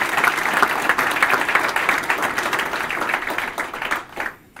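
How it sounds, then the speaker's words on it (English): A large audience at a police chief's swearing-in ceremony applauds with loud, sustained clapping that thins out and fades near the end. "Please give John a terrific round of applause."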